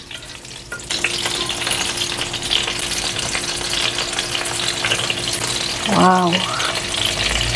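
Meatballs fry in a pan with a constant crackling sizzle, close and steady throughout, while a voice briefly exclaims near the end.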